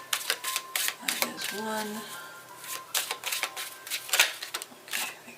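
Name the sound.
tarot cards being shuffled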